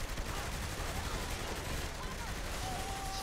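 Rapid gunfire from a Saints Row The Third shootout, a dense continuous rattle of shots filling the scene at steady loudness with no clear gaps between bursts.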